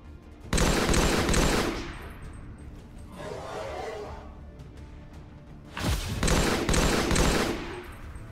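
Rapid gunfire in XCOM 2 modded with Halo weapons: two loud bursts of dense automatic fire, each over a second long, with a softer rumbling stretch between them.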